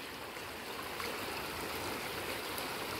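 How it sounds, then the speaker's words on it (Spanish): A swollen, rising river rushes past in a steady, broad wash of flowing water, close by and constant, with no speech. "Y el río va aumentando."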